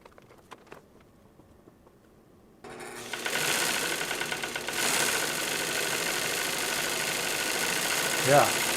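A Singer 111W153 triple-feed industrial sewing machine winds a bobbin. A few quiet taps come first, then a steady mechanical whir with a fast patter starts up and runs on close and loud.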